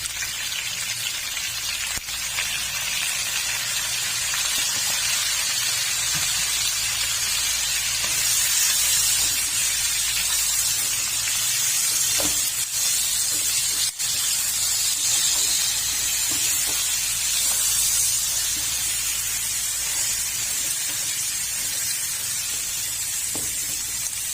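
Spices hitting a hot pan during sautéing for an oxtail tagine, a steady, bright, close sizzle and hiss that runs unbroken throughout, with a few faint clinks and no speech.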